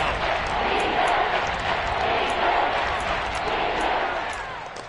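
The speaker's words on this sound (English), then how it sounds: "the crowd getting into it as we come up on a big 3rd down." Football stadium crowd noise swelling ahead of a big third down in a Chiefs game, a dense, loud, steady roar of many voices that eases off slightly toward the end, with no clear talk over it.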